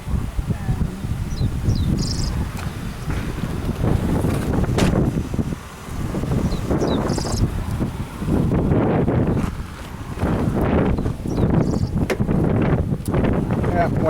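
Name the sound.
strong wind blowing during stormy weather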